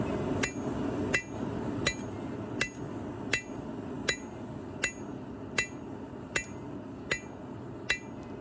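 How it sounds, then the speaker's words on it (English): A hammer strikes hot metal on a new cast anvil mounted on a stand and wrapped with chains, giving evenly spaced ringing blows, about a dozen in steady rhythm, close and clear over a low background. "So let's forge on it, see how it does."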